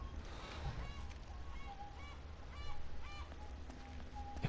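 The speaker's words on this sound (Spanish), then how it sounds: "¿Escucho gaviota o estoy flipando yo?" Seagull calls from the video game Uncharted sound as a series of faint, repeated squawking cries over a steady ambient bed of game background noise, spaced in a loose rhythm.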